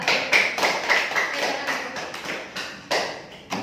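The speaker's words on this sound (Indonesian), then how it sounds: "Tepuk tangan untuk kelompok 2." Applause for a student group in a classroom session, a modest handful of claps with uneven rhythmic bursts rather than a full crowd, fairly close and alone.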